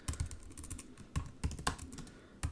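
Computer keyboard typing in bursts of irregular clicks and clacks, close and fairly quiet, with brief pauses between keystrokes during Python coding.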